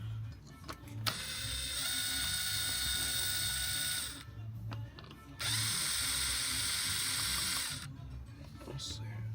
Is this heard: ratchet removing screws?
yes